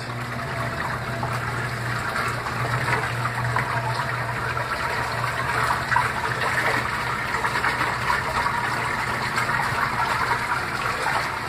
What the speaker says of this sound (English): the water spilling on the lid.